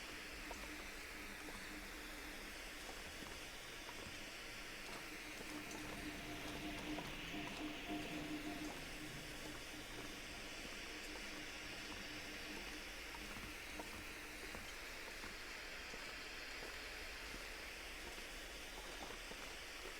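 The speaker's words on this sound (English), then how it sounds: "You really feel like you're standing next to a waterfall with how loud they are." A waterfall in a video game makes a continuous rushing wash of water that stays even and unbroken throughout, with no talking.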